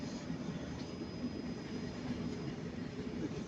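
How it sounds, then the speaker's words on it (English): A Pendolino train pulls into Manchester Piccadilly station, a faint, steady low rumble with a thin high whine held throughout, no talk. "We've got a Pendolino coming in"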